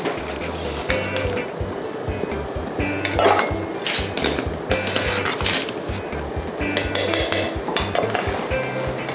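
A fine-mesh strainer scoops ingredients out of a pot of pork noodle soup broth, with repeated metallic clanks and scrapes against the pot and watery splashes, close and unhurried, no voices.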